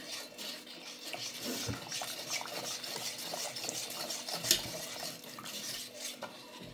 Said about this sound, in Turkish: Sıcak suyu ekleyerek iyice karıştıralım ki hiç topağı kalmasın dostlar.